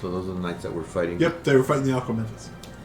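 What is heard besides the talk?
No everyday noises stand out.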